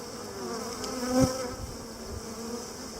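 Steady low buzzing of many honeybees close by around a caged queen, a continuous drone with a brief louder swell near the middle.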